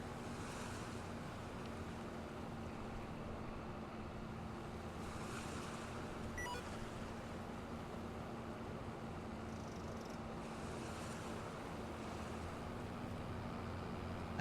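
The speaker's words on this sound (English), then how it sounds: "I do love hearing the waves crash up over here though." Waves wash steadily onto the shore of an island in the Farming Simulator 25 video game, a continuous even surf with wind noise mixed in and no clear breaks between swells.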